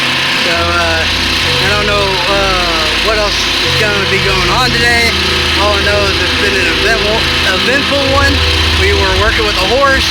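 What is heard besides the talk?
generator running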